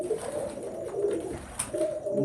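A purebred breeder pigeon coos in low, soft, repeated phrases close by, with a faint high chirp partway through.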